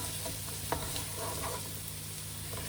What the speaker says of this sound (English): Fry for about 2 or 3 minutes. Just get it nice and lightly brown.